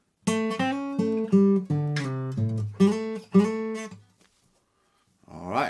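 A guitar plays a blues lick from a song: a quick run of bent and picked single notes over about four seconds, then a pause before another note begins, with no talking.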